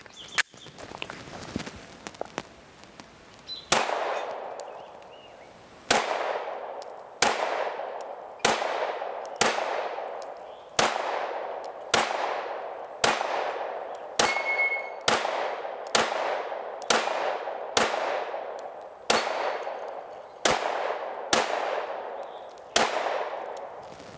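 Pistol shots from an all-metal Smith & Wesson M&P 2.0 fire loud and near, a string of about fifteen sharp cracks with ringing decay, spaced roughly a second apart after some quieter handling noises.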